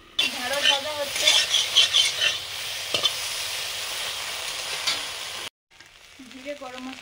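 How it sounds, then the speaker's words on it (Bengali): Okra frying in a pan gives a loud, continuous sizzle with scraping stirs, then cuts out abruptly near the end before a quieter sizzle resumes; a voice talks over much of it. "ঢেঁড়স ভাজা হচ্ছে"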